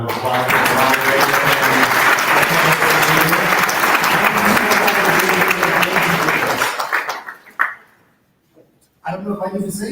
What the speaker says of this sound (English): Could we get one more big round of applause for the moderator?